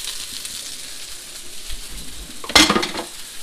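Leftover chili tipped into a pot of homemade stew, a short soft sizzle and a sharp clatter of a utensil against the pot near the end.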